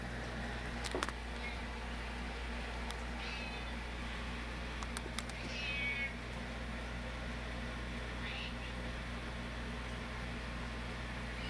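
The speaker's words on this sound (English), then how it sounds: "Good kitty." A cat meows a few times, soft and fairly close, over a constant low electrical hum.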